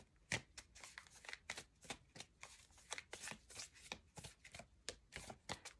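A deck of tarot-style oracle cards being shuffled close by, a rapid series of crisp riffling flutters and slaps in irregular bursts, faint and without talking.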